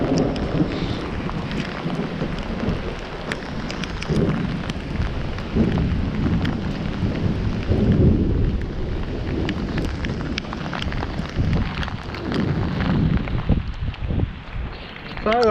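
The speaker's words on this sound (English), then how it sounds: "Oh, look at that thunder, people." Storm Boris batters Nottinghamshire with steady heavy rain and low rumbling thunder, a constant roar of weather filling the scene close by, with a voice talking over it at times.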